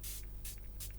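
Three quick hissing spritzes from a hydrating face mist spray bottle, evenly spaced, close and soft against a low background hum.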